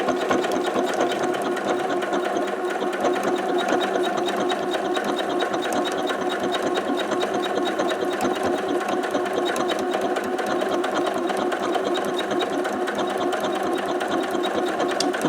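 A Janome Skyline S5 computerized sewing machine stitching a decorative letter pattern, giving a loud, steady, fast mechanical whir and needle chatter that runs unbroken and close-up with no pauses or voices.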